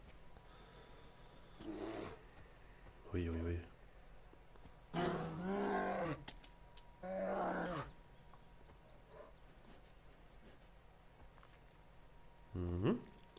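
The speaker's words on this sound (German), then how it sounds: "Hier liegt doch der Bär." A bear in Far Cry 5 gives several deep, growling roars in separate bursts spread across the stretch, moderately loud over quiet wilderness ambience, with a short spoken exclamation in between.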